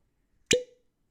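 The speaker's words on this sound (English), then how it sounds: "It's an all right cork pop." A single short cork pop from a Jack Daniels Bottled in Bond whiskey bottle, close and clear in an otherwise quiet room.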